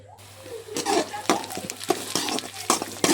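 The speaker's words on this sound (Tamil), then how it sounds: "இன்னும் கொஞ்சம் நேரம் நல்லா வதங்கி எடுத்துக்கலாம்." Onions sautéing and being stirred in a pan for spicy pepper chicken gravy, with close, steady sizzling and repeated scraping strokes of a spoon against the pan.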